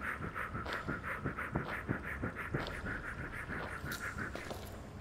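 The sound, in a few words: creature breathing in Minecraft horror mod, video game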